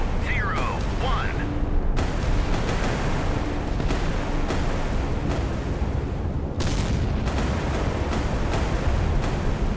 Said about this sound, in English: The bow turret is hit and explodes.